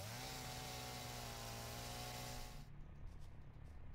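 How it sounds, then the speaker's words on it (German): A chainsaw in the video game Satisfactory cutting through leaves, a loud steady engine drone that runs evenly for a few seconds and then cuts off abruptly, leaving a quieter rumbling tail. "Blätter mit der Kettensäge fällen"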